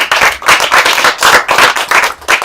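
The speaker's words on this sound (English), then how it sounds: "Can we get a round of applause for Sadhguru, everybody?" Audience applauding a guest after an interview, uneven clapping that swells and dips in bursts throughout, fairly loud and close with no talk over it.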